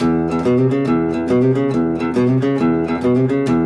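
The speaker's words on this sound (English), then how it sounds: "hammer-on riff. It's going to sound like this." A fast, repeating guitar riff with quick plucked and hammered notes, steady and loud, played alone with no talking.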